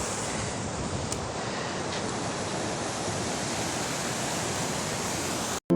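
A mountain river rushes steadily along its stream, a dense, loud wash of flowing water that continues without a break and then cuts off abruptly at the end.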